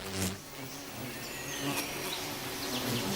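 Bees buzz continuously, a dense insect drone with individual buzzes swelling and fading up close, no voices.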